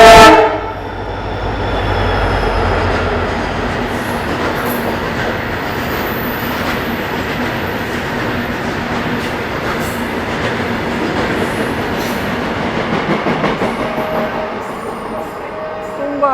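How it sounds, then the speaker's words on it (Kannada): A very short freight train rolls past near Dharwad, a loud, continuous rumble with rhythmic wheel clatter and a horn at the start, holding steady for the whole stretch before easing at the end. "ತುಂಬ ಚಿಕ್ಕದು ಫ್ರೈಟ್ ಟ್ರೈನ್ ಇತ್ತಿದ್ದು,"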